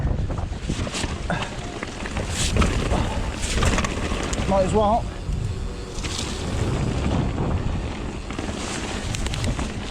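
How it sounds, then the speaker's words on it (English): Strong wind buffets the microphone on an exposed mountain bike trail in South Wales, a gusty low rumble that rises and falls, with a bird call and someone speaking briefly. "The wind up here is ridiculous"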